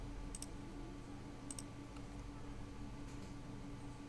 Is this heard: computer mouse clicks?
yes